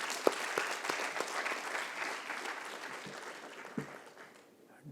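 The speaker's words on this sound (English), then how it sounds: "A round of applause to each one of you." Audience applause for selected teams at an entrepreneurship mentoring session, a full steady round of clapping with a few sharp individual claps standing out, gradually fading toward the end.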